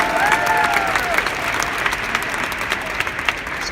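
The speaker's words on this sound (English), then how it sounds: "Give him a round of applause." Loud, sustained applause from a large conference audience, a thick wash of clapping that runs unbroken from start to finish.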